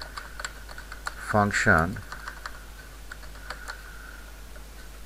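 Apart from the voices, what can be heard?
typing on a computer keyboard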